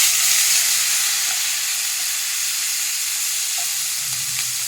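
Ten to twelve garlic cloves and chopped tomato fry in a hot pan while being stirred, giving a loud, continuous sizzling hiss that stays steady throughout with no voices.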